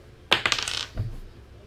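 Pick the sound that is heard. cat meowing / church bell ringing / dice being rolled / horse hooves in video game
dice being rolled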